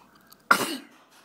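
A single short, sharp sneeze bursts out close by in an otherwise quiet room, fading quickly, with no talk over it.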